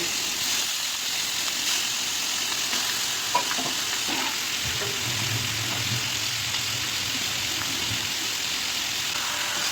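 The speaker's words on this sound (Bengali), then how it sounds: "এখন মাংসগুলি দিয়ে দিচ্ছি ভেজে নিব" Loud, continuous sizzling of broiler chicken pieces frying in a little oil over high heat, with occasional stirring clatter and a brief low rumble midway.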